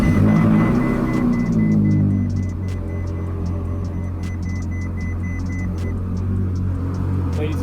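Car interior on the road with a steady low engine and road rumble throughout, a faint tonal whine and light clicking ticks above, continuous and fairly loud with no talk.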